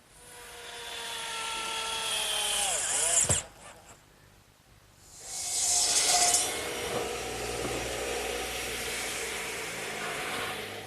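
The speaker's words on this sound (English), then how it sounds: "set them in place, and fasten it with some screws" A power drill drives screws through cleats into a wooden decking sandbox frame, with two loud whining bursts separated by a short quiet gap, close and unaccompanied.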